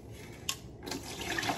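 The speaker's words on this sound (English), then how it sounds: "so I'm gonna dump the water out of this" Water dumped out of a container into a sink during home cooking prep, a short splash followed by a steady pouring rush that builds and continues to the end.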